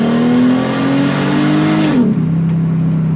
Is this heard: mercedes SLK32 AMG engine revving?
yes